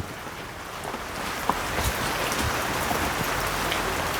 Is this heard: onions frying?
no